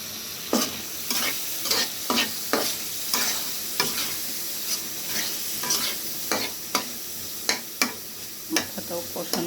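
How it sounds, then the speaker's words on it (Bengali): Salted hilsa fish head fries in a pan while being stirred, a bright sizzle broken by repeated sharp scraping strokes of a spatula, close and fairly loud. "এখন আমি লোনা ইলিশের মাথাটা দিয়ে দিচ্ছি।"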